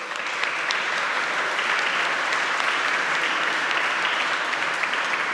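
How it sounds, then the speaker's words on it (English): Steady, sustained applause from a large conference audience at Git Merge 2018, a dense wash of clapping without pause. "let's give a round of applause for organizers and making that possible"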